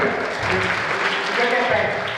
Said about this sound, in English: Claps again.